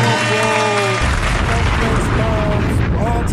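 Canned applause from a DJ sound-effect button, a loud crowd clapping and cheering that plays for a few seconds alone and without a break after a short tonal jingle.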